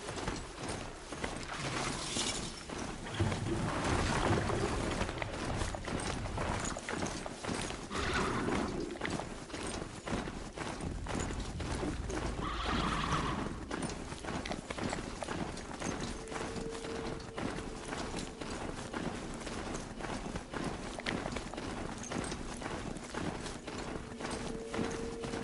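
A horse-like steed in the Horizon Zero Dawn video game moving at pace, a steady run of rapid hoof clip-clops lasting throughout, mid-distance and fairly quiet, mixed with faint mechanical game sounds.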